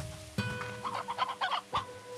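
A chicken in the Slime Rancher 2 video game clucks in a few short, bright bursts close up, with brief pauses between the calls.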